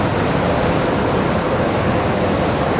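Ban Gioc waterfall on the Vietnam border roars as a loud, steady, dense rush of water that fills the whole clip without a break.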